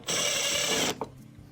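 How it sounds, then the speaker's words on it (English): A power screwdriver drives a screw into a Samsung refrigerator panel, a single close whirring burst under a second long, followed by a faint click and quiet. "Next, you're going to go around with all the regular screws, followed by the machine screw at the end."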